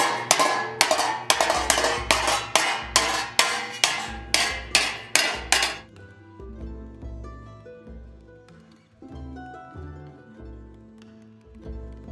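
Steel hammered into shape for a replica Uruk Hai helmet from Lord of the Rings, a fast run of loud, even metallic strikes for about six seconds, then ringing resonance and quieter tapping.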